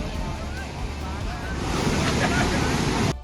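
Fast-flowing drain water pouring across a road during monsoon flooding in India: a loud, continuous, rushing roar mixed with gusty wind noise, steady throughout and close to the microphone.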